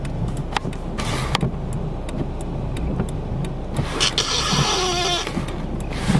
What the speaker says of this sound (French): Il y a une voiture, je panique.